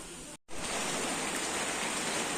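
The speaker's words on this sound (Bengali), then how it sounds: "বলতে বলতে আবার মানে বৃষ্টি শুরু হয়ে গেছে।" Steady rain falls on a farm where goats are kept, a dense, even hiss that starts abruptly after a brief moment of silence and continues loud and unbroken.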